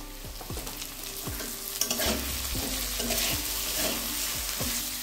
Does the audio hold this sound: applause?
no